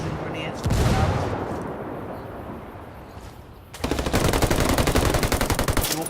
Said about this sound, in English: Stuns and grenades going out